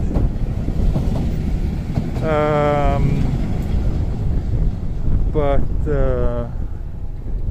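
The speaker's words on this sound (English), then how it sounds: "Oh, look, here's the Manekineko train." A steady rumbling roar of a passing Tokyo Setagaya Line train, the cat-themed Maneki-neko car, with wind buffeting, while a few voices speak briefly over it.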